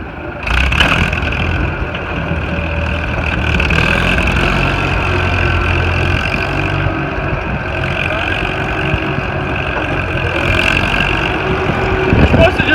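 A Farmall Super C tractor struggles to start and its engine labours unevenly. The rough mechanical drone runs continuously, with a louder surge near the end, while people talk over it.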